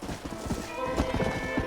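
Horse hooves clip-clopping at a steady trot in Red Dead Redemption, a close, rhythmic series of thuds with a faint whinny and some speech over them.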